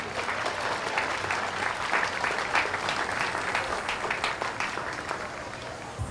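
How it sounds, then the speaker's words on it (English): An outdoor audience at a 2014 Fourth of July patriotic program in Hamilton applauds steadily for the Citizen of the Year, a dense wash of clapping that holds at even loudness for several seconds before easing slightly. "How about a round of applause for Hamilton Citizen of the Year"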